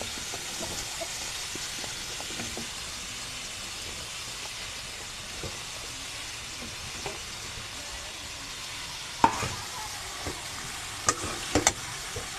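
Mixed vegetables including potatoes, beans and eggplant stirred while frying in a pan, a steady low sizzle with occasional scraping clicks and knocks from the utensil.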